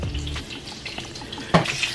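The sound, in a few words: Parmesan-crusted chicken frying in a pan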